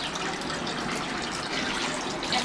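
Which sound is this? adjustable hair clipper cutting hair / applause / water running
water running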